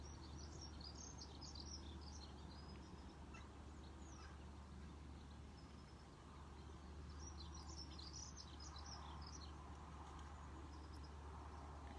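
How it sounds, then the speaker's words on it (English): Birds chirp and call outdoors, with scattered bright chirps over a steady low hum of background noise, distant and fairly faint throughout. "And just hearing the songs of the birds, how beautiful they are."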